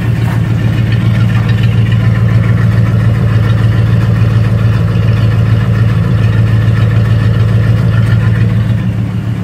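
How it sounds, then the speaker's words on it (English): A 1990 Dodge D150 truck idles cold, its engine and exhaust giving a loud, close, steady low rumble that stays even throughout with no speech. "It runs pretty clean, no knocks, no ticking. Runs pretty good. Give you a quick view of the exhaust."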